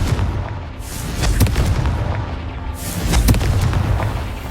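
Booming blasts from the Confringo fire spell in the video game Hogwarts Legacy, dense, loud rumbling explosions with two heavier bursts roughly two seconds apart over a constant layer of game noise.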